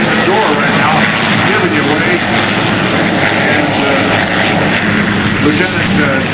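An SH-3 Sea King helicopter at the 2004 NAS Oceana airshow flies down the crowd line, a loud, steady rotor and turbine roar filling the whole stretch with little change, while a commentator speaks over it.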